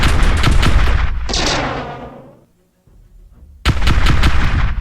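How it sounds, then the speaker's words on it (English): Flak cannons firing at ships in the space strategy game Star Drive 2: loud dense bursts of gunfire and explosions, fading out to near silence, then a sudden loud volley of rapid shots. "these are flak cannons, which actually are meant to stop enemy incoming ordnance missiles"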